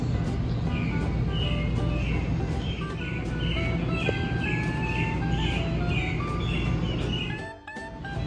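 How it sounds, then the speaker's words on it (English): Birds chirp repeatedly in a steady series of bright tweets over a constant outdoor hum at Gopher Gorge Campground in Hot Springs National Park, Arkansas, continuing throughout at moderate distance. "And listen to the birds."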